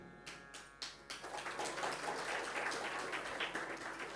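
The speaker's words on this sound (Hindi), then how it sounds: "ताली वो बजा रहे हैं" Audience clapping during a religious discourse, starting with a few sharp separate claps that swell into sustained, moderately distant applause from the gathering.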